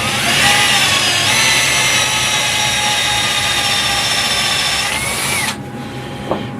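A power drill runs at steady high speed for about five seconds, opening up a hexagonal hole in a thrust bearing to fit a shaft, then cuts off abruptly, leaving a faint room hum and one small click.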